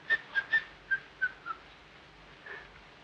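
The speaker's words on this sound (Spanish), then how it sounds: "es una mala costumbre esta de silbar, pero no puedo remediarla" A man whistles a short tune of quick, clear notes, five or six bright chirps close by and fairly soft, then a brief pause and one longer note, with no talk.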